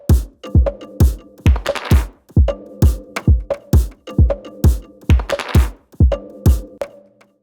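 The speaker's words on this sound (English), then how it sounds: "let's start by playing a MIDI drum loop" A plain, unprocessed MIDI drum machine loop: punchy kicks, snare hits and ticking hi-hats repeating in a steady groove, dry and up front.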